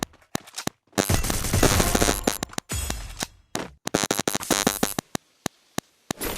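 Gunfire in the battle game Free Fire, with loud automatic bursts and rapid single shots coming in clusters separated by brief silences, close and sharp throughout.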